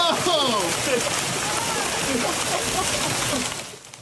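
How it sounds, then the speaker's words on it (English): Hail falling in a yard in San Joaquin County during a valley thunderstorm, a dense steady patter and splatter that stays even and fairly loud, then fades out near the end. "this is a closer look at that hail falling"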